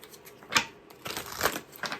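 Tarot cards being shuffled by hand, a few crisp riffling bursts and rustles spaced across a short quiet stretch, close and fairly soft.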